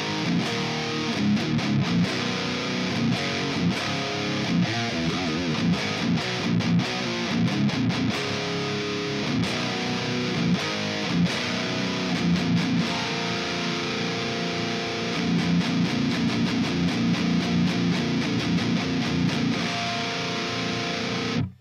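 Distorted electric guitar tone from an ML Sound Lab Amped ICON amp simulation through a simulated Dynamic 57 microphone, like a Shure SM57: a continuous, dense, loud riff with choppy palm-muted rhythmic stops and sustained crunchy chords.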